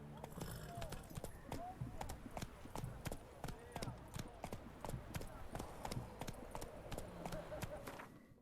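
Roach the horse galloping in Witcher 3, a steady rhythmic clip-clop of hooves running throughout at moderate volume, with faint voices underneath.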